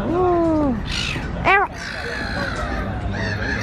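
Seabirds give a few loud, harsh, gull-like squawking calls close by outdoors, two distinct cries over steady wind and background noise.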